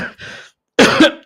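A man coughs loudly and close by, giving two rough bursts, a short pause, then a harsher double cough.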